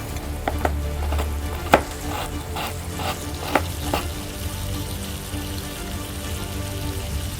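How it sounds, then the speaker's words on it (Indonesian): Tenderloin sautéed with spices in a pan gives a constant crackling sizzle, with a handful of spoon scrapes and taps spread through the first four seconds, then steady frying alone. "Ini kita tumis di dalamnya supaya lebih kuat aroma dan flavornya."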